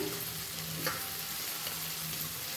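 Chopped onion and green chili frying in oil over tempered whole cumin seeds, a dense steady sizzle with an occasional faint scrape of stirring, close and even.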